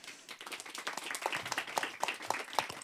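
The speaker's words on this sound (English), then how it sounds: "Give him a warm welcome of applause." An audience claps to welcome a panelist at a public talk on designing cities, a dense patter of many hands that holds steady for a few seconds in a room, moderately loud, without voices.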